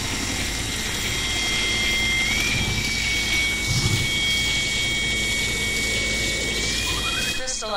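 A helicopter arriving in the video game I Expect You To Die, heard as a steady, loud whirring drone with a sustained whine running through it, layered under other game sounds.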